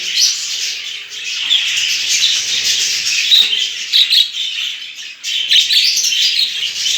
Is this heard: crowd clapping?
no